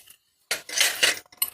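Metal puja plates and a bowl clink and clatter as they are handled up close, with a few short sharp metallic knocks and scrapes between brief silences.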